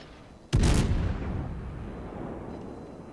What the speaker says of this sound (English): I am going to shoot torpedoes.